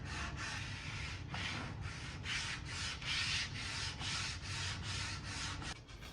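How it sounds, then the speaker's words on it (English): Detail sander working along the edges of a Lane cedar chest top, a steady loud buzzing rasp in repeated pulsing strokes that runs close and uninterrupted for the whole stretch, with no talking. "I also went ahead and detail sanded the edges of the top."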